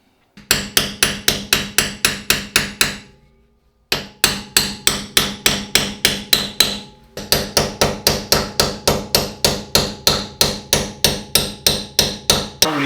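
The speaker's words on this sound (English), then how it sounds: "I'm trying to add a little bit of pressure from underneath using a jack and a hammer." Steady metal hammer blows on the rear bushing of a Mercedes 190E, struck in quick even runs of about three per second with one short pause, loud and close in a closed room, no talking.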